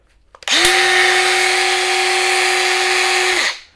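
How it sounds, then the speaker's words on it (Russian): A Bosch X-Lock battery angle grinder whines up to a steady high-pitched drone, runs evenly for about three seconds, then spins down and stops. "включили вы болгарку, да?"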